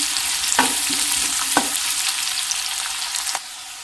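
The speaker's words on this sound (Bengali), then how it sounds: "পিঁয়াজখিনি অকণমান দুই তিনি মিনিটমান টকটালৈকে ভাজি লওঁ" Onions fry in a pan with a steady, close hiss of oil, broken by a few soft knocks and scrapes of a spatula, then quiet down near the end.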